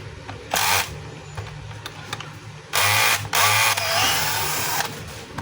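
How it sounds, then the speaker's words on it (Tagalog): A screw still sealed with Loctite creaks and grinds in short, loud, rasping bursts as it is unscrewed from a Stanley STDH7213 half-inch hammer drill, with quieter mechanical handling between the bursts and no talking. "lumalagotok pa kapag tinanggal mo yung screw"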